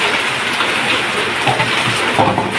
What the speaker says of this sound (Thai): ฝนแรงมาก